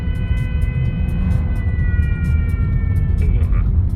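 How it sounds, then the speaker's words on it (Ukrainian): An air raid siren in Ukraine sounds a sustained, slowly wavering wail over a low rumble of street noise, its tone shifting near the end. "Повітряна тривога."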